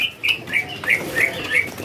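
Magpie-robin (murai palangka) birds at a bird kiosk give a series of bright, whistled chirps, about six short repeated calls in quick succession, moderately close, with no talking over them.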